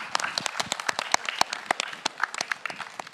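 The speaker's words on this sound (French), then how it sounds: "Applaudissements pour Théo." Clapping for Théo, a YouTuber on stage at a gaming-festival conference, comes as a brief patter of distinct hand claps from a modest crowd, moderately quiet and fading out within a few seconds.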